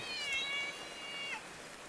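A cat gives a couple of high, wavering meows close by, heard over a steady hiss of falling rain.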